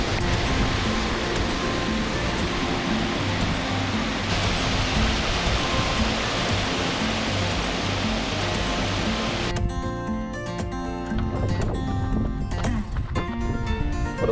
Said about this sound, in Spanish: Foto típica de los canales, de una caída de agua.